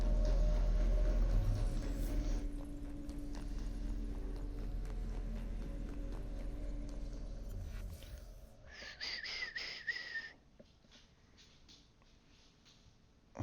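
Horse hooves clip-clop steadily in Assassin's Creed Syndicate, a loud, rhythmic trot with a rumbling ride for about eight seconds, then the hoofbeats stop and fainter game sounds take over.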